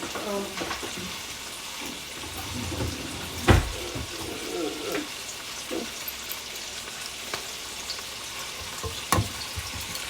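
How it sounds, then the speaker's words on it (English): Bacon frying in a pan gives a soft, steady sizzle through the whole stretch, with occasional clatters and a sharp knock partway through, alongside scattered faint kitchen noises. "Let this bacon cook for a little bit on that side"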